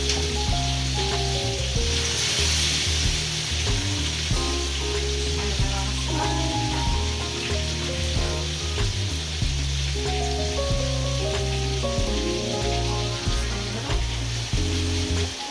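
Chicken pieces for a Jamaican curry chicken sauté in a hot pan, giving a loud, dense, continuous sizzle and crackle close up that holds steady throughout, with no talking.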